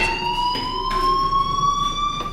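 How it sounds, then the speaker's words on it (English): A school fire alarm in Life is Strange rings with a loud, steady electronic tone, sustained and unbroken with faint bursts of background noise around it. "do you hear that fire alarm? That means you should be outside."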